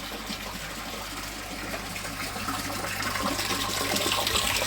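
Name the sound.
water tap running, filling a koi pond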